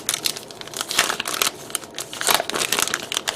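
A plastic bag holding a Flame Toys Transformers Megatron model kit's manual crinkles and crackles in quick, irregular bursts, close and continuous with no talking.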